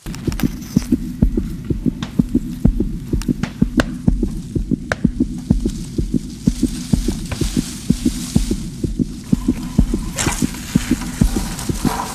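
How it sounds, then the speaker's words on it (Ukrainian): Loud, steady heartbeat thumping in regular doubled pulses over a low hum, during a hunt among reeds with a shotgun, continuing evenly throughout with no voices. "здається, наше серцебиття нас викриває"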